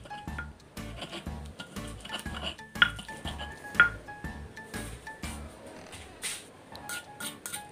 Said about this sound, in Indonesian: kita ulek campur sampai halus